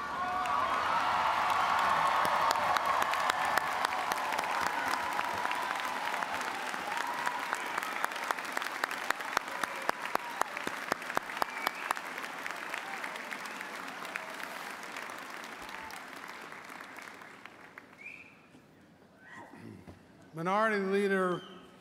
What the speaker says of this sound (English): Let's all rise and applaud each other